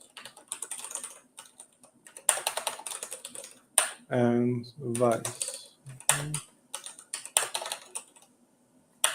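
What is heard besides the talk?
typing on a computer keyboard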